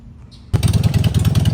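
An EFI Harley-Davidson Sportster chopper engine fires up after a quiet moment and then runs loud and close, with a throbbing, lumpy idle pulse.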